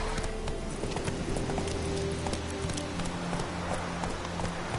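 Roach, a horse in The Witcher 3, galloping with steady rapid hoof clip-clops over a continuous noisy game background, moderately loud and even throughout.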